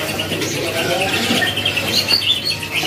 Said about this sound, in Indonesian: stok burung caijo yang sudah gacoran ya. Ini yang di atas lagi bunyi mulu.